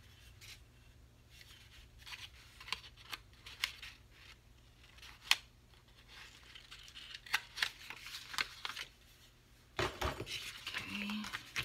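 Scissors snip through material in short, quiet, irregular cuts up close, the clicks bunching into quicker runs toward the end.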